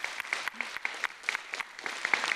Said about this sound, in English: I would like to ask for a round of applause for our outstanding speakers